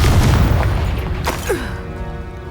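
A booming Confringo fire spell detonates in Hogwarts Legacy, a loud deep explosion rolling out and slowly fading over a couple of seconds.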